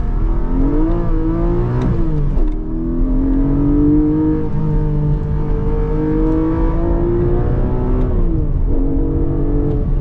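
A 2024 Porsche Cayman GTS 4.0 with a manual gearbox is driven on the road. Its engine drones loudly and steadily, the tone climbing under acceleration and dropping at each gear change, continuous and close from inside the cabin.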